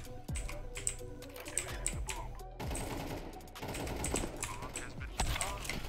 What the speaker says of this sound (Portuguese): Nossa, era um tiro, velho.